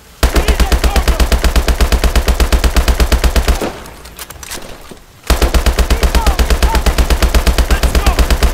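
Call of Duty Advanced Warfare machine gun fire, loud rapid bursts in an even rhythm, breaking off for about a second and a half of quieter battle noise before resuming at full force.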